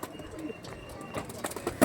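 A pure Harukudu pigeon, one of a pair for sale, coos softly and repeatedly at close range against a faint, busy background, with no talk.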